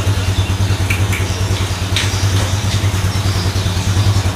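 A Yamaha Jupiter Z1 motorcycle engine idles in first gear with its rear wheel spinning slowly, giving a steady, close, pulsing putter with light mechanical clatter and no talking.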